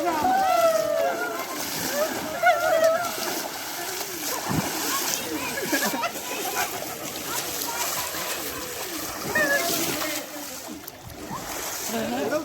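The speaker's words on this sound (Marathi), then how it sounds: "आणि आम्ही त्या पूलमध्ये मजा करतोय." People splash and slosh in a resort swimming pool at Ovi Farm in Karjat, Maharashtra, with steady water churning, playful voices and shrieks of friends throughout.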